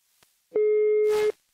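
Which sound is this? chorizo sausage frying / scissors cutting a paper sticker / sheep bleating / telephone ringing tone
telephone ringing tone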